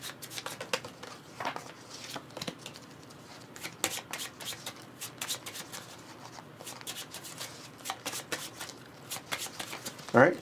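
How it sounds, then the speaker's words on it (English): A deck of playing cards is shuffled by hand during a tabletop board game, giving a run of quick riffling and flicking bursts with brief pauses, close up, with a voice heard faintly at times. "so I have to shuffle now"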